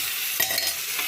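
Cumin and ginger paste with salt and turmeric frying in a kadai, a steady close hiss with a brief stirring scrape partway through.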